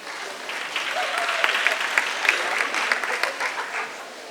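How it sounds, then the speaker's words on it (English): A conference audience claps together in a steady, dense round of applause that holds for several seconds and then begins to taper off. "let's have a really quick round of applause for Matt Tirigo"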